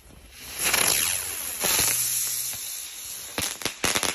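Firecrackers from a pyrotechnics set going off outdoors: a loud crackling, hissing burst builds and sustains for a couple of seconds, then a rapid string of sharp, close pops ends the clip.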